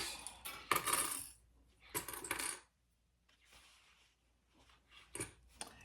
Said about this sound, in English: I'm dropping clips like they were candy